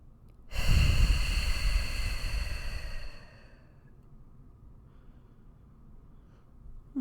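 A single deep, loud breath, a long drawn inhale or exhale lasting a couple of seconds, close to the microphone, then quiet room tone with no talking.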